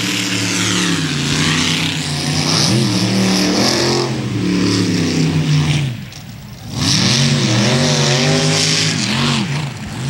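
A race car engine screams loudly as it accelerates, pitch climbing and falling through gear changes, dipping briefly before roaring up again.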